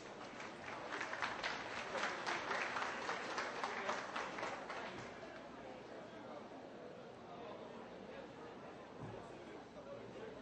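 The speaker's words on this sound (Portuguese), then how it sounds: "com vocês, o engenheiro agrônomo Hermes Bonfim, para quem eu peço uma salva de palmas" Faint audience applause welcoming an agronomist speaker at a coffee irrigation conference, steady clapping strongest in the first half and then softening into a lighter patter with crowd murmur beneath.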